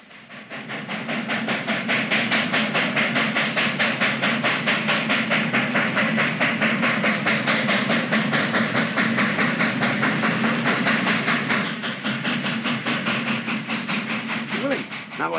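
Train rolling along the tracks in an old Abbott and Costello comedy, a steady dense rumble with rapid clickety-clack under a faint hiss, close and continuous throughout.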